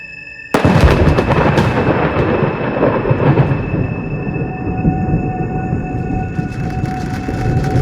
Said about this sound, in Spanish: Abrió los ojos y lo sacudió el fuerte sonido de un trueno.